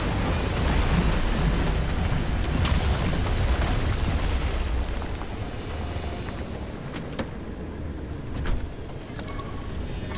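A storm closes in during the Pacific Drive video game: heavy rain hisses over a deep rolling rumble of thunder that is loudest early on and eases midway. A few sharper cracks stand out, and no one speaks.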